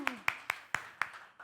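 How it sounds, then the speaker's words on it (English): A few people in a church audience clap in about five evenly spaced, distinct claps, close and sparse rather than a full round of applause. "can we give yourself a big round of applause?"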